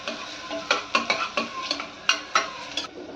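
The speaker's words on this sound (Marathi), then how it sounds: "जिरं चांगलं फुललं ना की मोठा एक कांदा आणि 3 मिरच्या मिक्स करून घ्यायचं।" Chopped onion and green chillies stirred into hot oil with cumin, a spoon scraping the pan in about nine quick strokes over a soft sizzle, close and clear with no talking.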